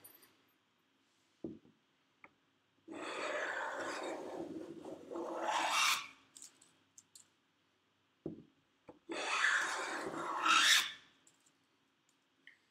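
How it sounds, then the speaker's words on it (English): Sharpening and flattening the blade of an LN No. 62 plane produces two long, loud rasping strokes of several seconds each, with a few quick taps in the quiet pause between them. "it's just sharpening a blade and just flattening an edge"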